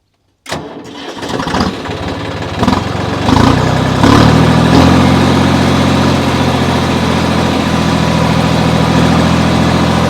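A John Deere tractor engine cranks and catches, then settles into a loud, steady diesel rumble close by, running on without a break.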